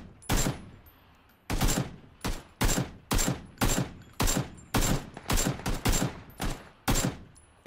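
An AK rifle firing in the PUBG battle royale game: a long run of about a dozen loud, punchy single shots at a fairly steady, deliberate rhythm after one early shot and a brief pause.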